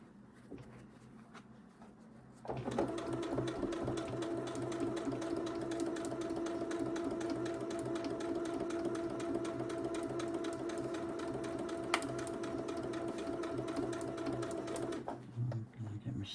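A sewing machine stitches steadily over a thick seam of a small quilted fabric pot, a loud, continuous mechanical whir that starts after a quiet moment and runs uninterrupted before stopping.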